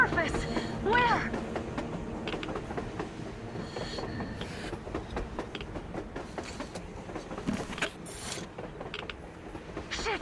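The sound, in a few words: train passing on the surface in Metro Exodus video game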